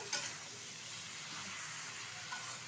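Malabar spinach with its stems stir-frying in spices in a pan: a steady, even sizzle and hiss throughout, with a faint scrape of stirring near the start.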